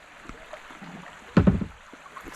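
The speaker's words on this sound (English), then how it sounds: "Now we're hitting the rapid here at Sharman's Run" A kayak runs through shallow rapids on Antietam Creek at low water. A soft background of water sits under the paddling, and a short burst of splashing and knocking comes near the middle of the clip.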